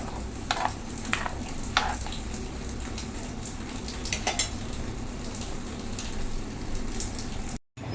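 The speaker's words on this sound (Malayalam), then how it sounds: "നമ്മുടെ കറി ഇവിടെ നല്ലപോലെ തിളച്ചിട്ടുണ്ട്" A clam meat curry bubbles and simmers in a pot in a steady low burble. Intermittent sharp clinks of a spoon against the metal cut through close by, and no one talks.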